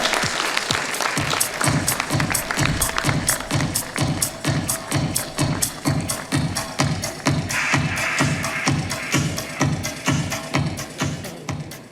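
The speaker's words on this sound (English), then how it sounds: "Everyone, can we have a huge round of applause for sir?" An audience at a tractor industry awards show gives a big round of applause for an honoured guest: loud, close clapping that falls into a strong, even rhythmic beat, sustained throughout with no talk over it.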